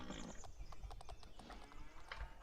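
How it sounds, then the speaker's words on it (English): Hooves clip-clop rapidly as a horse is ridden across a farm in a farming video game, with steady repeated footfalls and an occasional whinny close up. "Not very good at the whole horse riding thing."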